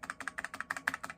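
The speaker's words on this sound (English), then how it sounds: "They also have a great sound to them, like a clicky sound." Physical keys on a CODE Victory 3 lighting console give a quick run of about a dozen crisp, close clicks at a steady typing rhythm, with no voice.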